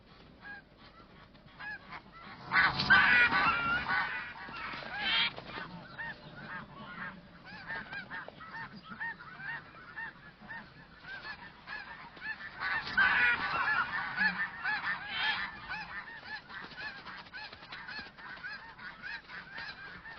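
Many breeding geese honk together on the Russian Arctic tundra in a noisy, overlapping chorus, with two louder swells of calling amid continuous background clamor from the flock.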